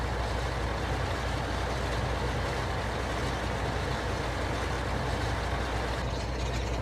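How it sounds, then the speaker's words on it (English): A tractor engine runs steadily at close range during a rainy sunflower harvest, a loud continuous rumbling drone with no break and no talking. "shut off the tractor for now."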